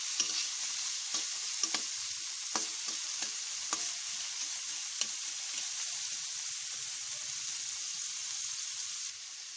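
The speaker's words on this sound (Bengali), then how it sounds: "ভালো করে নেড়ে নিয়েছি ক্যাপসিকাম দিয়ে" Chopped capsicum sizzles steadily in a hot pan while a spatula scrapes and stirs it, with sharp clicks scattered through the first few seconds over a continuous frying hiss.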